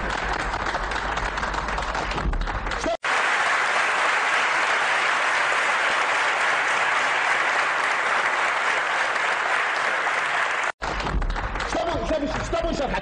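A large audience at a Gulf Cooperation Council summit breaks into sustained, dense applause. The clapping holds steady and loud for several seconds, with brief cuts at each end.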